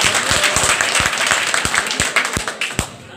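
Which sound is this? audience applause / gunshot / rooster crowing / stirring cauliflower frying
audience applause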